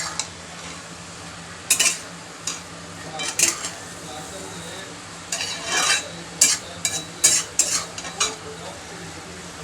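Washed fenugreek leaves are stirred in a pan over a low frying hiss, with a spoon scraping in irregular bursts, some sharper and louder, up close and without speech.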